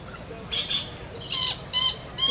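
Bird squawks at a wild animal park, four bright harsh bursts spaced about half a second to a second apart, fairly close and loud over a low murmur of background noise.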